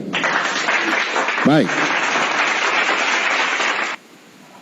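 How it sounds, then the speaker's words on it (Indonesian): A crowd at an Indonesian religious discussion gives loud, dense applause for about four seconds, then it cuts off abruptly. Someone speaks a single short word partway through the clapping. "kita berikan tepuk tangan buat Ustadz Wifi ya"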